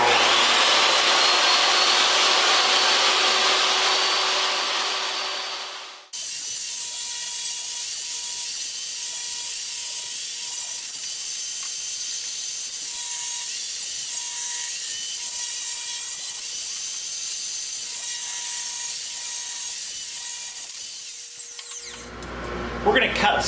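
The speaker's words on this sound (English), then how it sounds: "I got the vacuum on, so it's going to be a little bit louder, plus the saw." A power saw rips wooden boards for a rustic chicken coop barn door, with a shop vacuum running steadily underneath; the loud saw cuts off after a few seconds, leaving the vacuum's hum, then the saw returns near the end.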